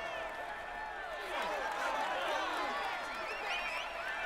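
Crowd applause and cheering at a Tour de France 2020 video game stage finish, a steady dense wash of clapping and shouting that holds loud and even from start to finish beneath swooping, tonal game sounds.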